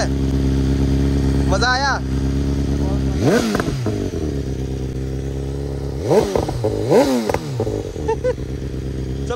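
Superbike engine idling under a loud, close rumble, then revved in two rising-and-falling bursts, with people talking over it.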